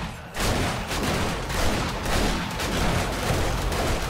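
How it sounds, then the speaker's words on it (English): Machine gun turrets in 7 Days to Die (Alpha 19) fire at zombies during a horde night base defence, producing a dense, continuous barrage of loud overlapping gunfire that starts abruptly and runs without pause. "The nice thing about the machine gun turrets is they're actually shooting the zombies at a distance."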